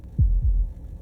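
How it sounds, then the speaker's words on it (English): Heartbeat sound effect from the video game Slay the Princess: two deep, thudding beats in quick succession, loud and close, with a low throbbing hum beneath and no talking. "That was the sound of a heartbeat, followed by another."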